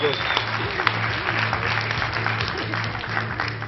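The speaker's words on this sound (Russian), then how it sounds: "Бурна аплодисмент, роман!" A crowd breaks into stormy applause for Roman, dense clapping throughout with voices and shouts mixed in beneath it.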